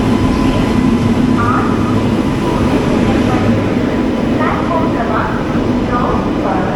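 The 22208 Trivandrum–Chennai AC Superfast train pulling into a station platform, a heavy continuous low rumble and rolling clatter that stays loud and close, with people talking faintly underneath.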